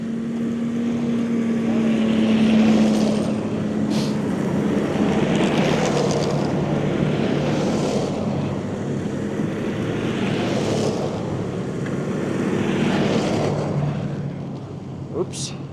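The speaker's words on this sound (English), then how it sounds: "More folks heading into the park on their snow machines." Snowmobiles heading into Yellowstone park in winter, a steady droning engine roar passing close and loud, with swells as machines go by and a few voices underneath.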